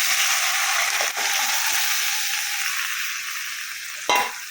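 Cooked lentils poured into vegetables sizzling in a pan: a continuous frying hiss, broken by a soft knock early on and a short, sharp splash-like burst near the end, with no talking.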